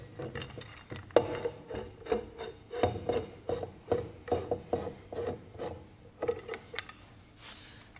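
A threaded pipe being screwed into a Parkside wood clamp: a series of close, dry scraping and clicking twists, irregular but repeated roughly every half second.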